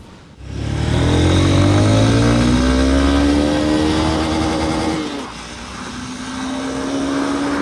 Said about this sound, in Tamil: எனக்கு கேட்டால் இது வந்து நல்ல எக்ஸாஸ்ட் நோட், கேட்குறதுக்கு சூப்பராக இருக்குது